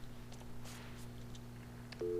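A telephone in the Alan Wake video game gives off a low steady electronic tone under faint background game noise, with a brighter beep cutting in just at the end.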